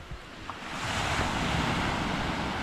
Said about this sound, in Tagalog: Tapos yung dagat ay normal. Maliliit na alon, Hindi ganun ka lalakas.